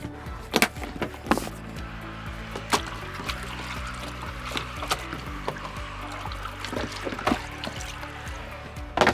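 A hard plastic Case Club 7 revolver and accessory case is plunged into water, giving sloshing splashes and dribbling trickles with several sharp clunks of the case, close and fairly loud with no talk.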